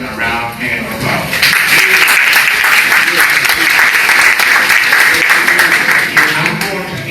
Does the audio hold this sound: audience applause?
yes